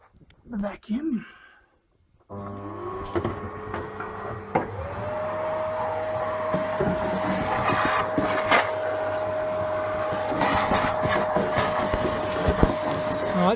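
Vacuum cleaner switching on and running steadily with a constant motor whine and broadband roar, used during seat base removal in a 1977 Range Rover Classic two-door; brief handling noises come before it starts.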